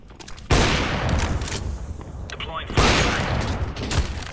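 Gunfire from flick shots in a Counter-Strike match, loud close bursts of shots at the start and again midway, with a steady din of game noise and shouted voices between them.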